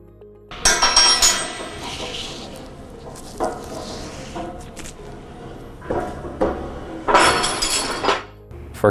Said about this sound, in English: the fastener easily pulled out of the panel with minimal wood failure